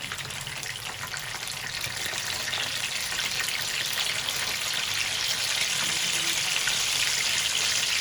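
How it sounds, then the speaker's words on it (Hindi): Peshawari chapli kababs frying in oil, a continuous dense sizzle and spatter that stays close and steady throughout, slowly growing a touch louder. "नाज़रीन 3 मिनट हो गए हमें कबाब फ्राई करते हुए एक साइड से"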